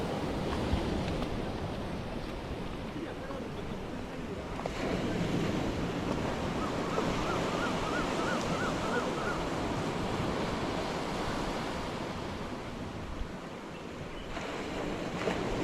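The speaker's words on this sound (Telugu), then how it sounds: "Completely secluded beach." Waves at secluded Paradise Beach in Gokarna give a continuous, broad wash of surf mixed with gusty wind noise, steady and fairly loud throughout.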